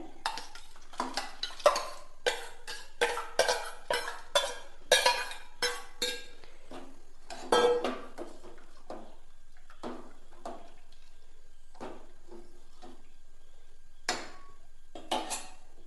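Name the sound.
stirring sago payasam in a pot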